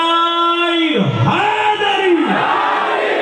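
Large crowd at a Muharram religious gathering in Jamnagar roaring a loud collective chant in reply to a slogan, a sustained, dense wall of shouting voices rising and falling over a few seconds.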